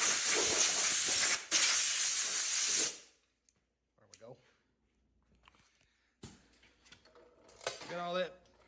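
Compressed air blasts loudly from an air nozzle to blow debris off bent metal parts in a welding shop, one long hiss followed by a shorter burst, then quieter clanks and someone speaking.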